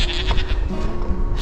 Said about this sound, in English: She put some emphasis behind her baa.